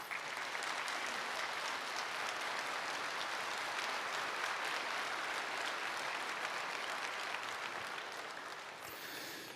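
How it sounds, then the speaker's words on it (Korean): A church congregation at a Sunday service claps steadily to welcome a missionary family, a dense, even roar of applause that holds for several seconds and fades slightly at the end. "일어나서 인사하실 때 축복의 박수 해주시기 바랍니다"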